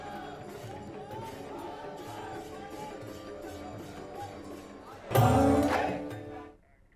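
A crowd of devotees fills a Shiva temple during Sawan with continuous murmuring chatter, which swells into a louder burst of shouting voices before cutting off.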